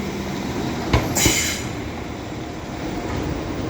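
A train runs through Leeds station, its wheels clacking and rumbling steadily, with a couple of sharp knocks and a short squeal partway through, fairly close and with no talk.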